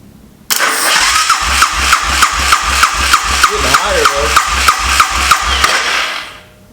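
A Honda 400EX quad that has sat unused, with lube added to the cylinders, cranks over in a steady rhythmic chug of about fifteen even strokes without catching, close and loud, with a brief voice in the middle.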